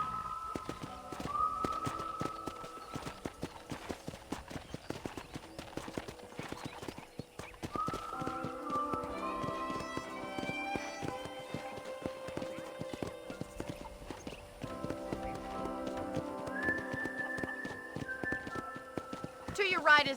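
A horse clip-clops steadily along a ranch in Red Dead Redemption on PC, hoofbeats rhythmic and close, with an occasional whinny, music and a character talking over it.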